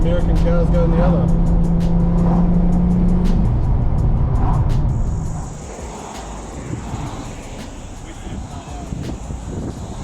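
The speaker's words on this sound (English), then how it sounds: "Japanese cars going one way and American cars going the other." Japanese and American cars pass by on a road trip. A loud engine roar fills the first half and then fades to a quieter background rumble with scattered clicks.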